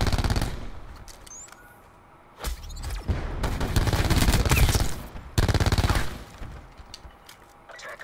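Call of Duty Black Ops 4 gunfire comes in two loud, close bursts of automatic fire with a short quiet gap between them and no talk.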